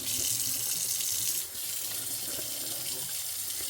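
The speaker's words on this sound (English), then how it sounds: "I put them into a clean sink of water to soak again before I ever cook them" A kitchen sink filling from the tap to soak black-eyed peas, a loud steady rush of running water close by that dips briefly partway through, with no talking.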